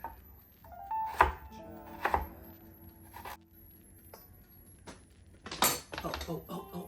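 A knife chopping vegetables such as carrots on a board for coleslaw, a few separate sharp knocks spread out, interspersed with clinks of kitchenware and brief speech.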